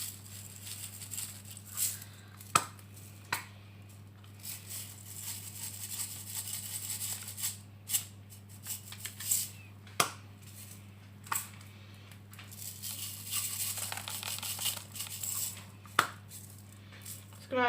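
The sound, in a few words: sprinkles being sprinkled onto chocolate balloon bowls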